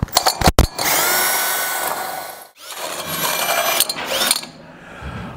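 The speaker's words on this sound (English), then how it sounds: "and go ahead and drill this guy out." A handheld power drill bores out an exhaust ground-clearance cutout in the body of a 1963-72 Chevy or GMC truck, whining loudly in long sustained runs broken by a brief pause, with no talking.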